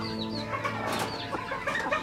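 A hen on a rooftop farm clucks softly and steadily for a couple of seconds, close by, with faint farmyard background and no talking.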